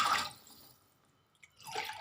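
Water splashes into a cooking pot for aloo rice in two short pours, one at the start and one at the end, with a near-silent gap between them.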